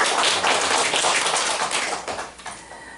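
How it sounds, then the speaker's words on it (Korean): A church congregation claps together during a Sunday worship service, a dense burst of hand clapping that thins and fades out over the final second. "하나님 앞에 영광의 박수를 드리기 원합니다."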